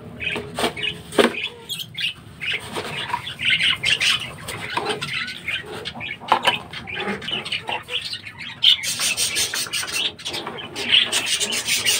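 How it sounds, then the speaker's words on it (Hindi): Caged birds kept together with a clay pot and seed feed squawk and chirp noisily in bursts throughout, close by, with rubbing and scratching movement sounds and occasional voices mixed in. "ये भी बहुत शोर करना शुरू हो गए हैं"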